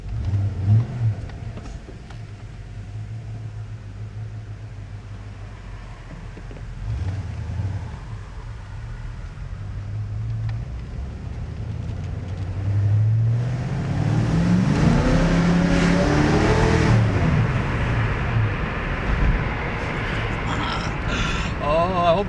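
A car being driven around the block after a stuck rear brake repair, with a low steady engine drone that builds as it accelerates, plus some wind noise and a brief voice partway through.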